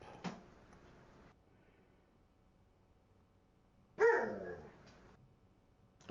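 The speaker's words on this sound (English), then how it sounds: "Dog said no." A dog gives two separate barks, the first brief and the second louder and more drawn out, near and plainly audible over a faint background hum, with a long quiet gap between them.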